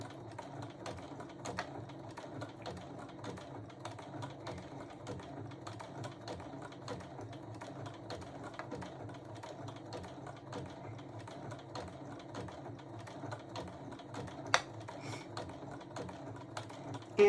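A home sewing machine runs a blanket stitch around a small circle, a steady whirring mechanical chatter of needle strokes throughout at moderate level, with a couple of sharp clicks near the end.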